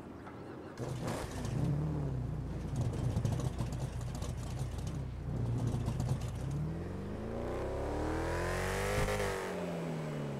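A drag car engine revs on a dyno in GTA 5, a loud, continuous roar that climbs and falls in pitch, then swells into a long rising wail near the end, with no voices.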